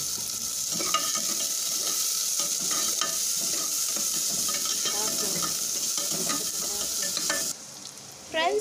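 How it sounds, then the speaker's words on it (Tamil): Onion sautéing in a pan for chow chow kootu, a steady close sizzle with rhythmic spatula strokes scraping the pan, fading to quieter sizzling near the end. "இப்போ வெங்காயம் வதங்கிடுச்சு."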